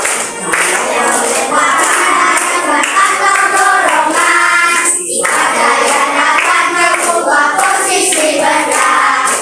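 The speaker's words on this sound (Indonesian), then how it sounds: "Tepuk tangan, sama tepuk tangan." A room of children clapping steadily and enthusiastically, dense overlapping claps forming a continuous bright patter with brief dips, close and loud.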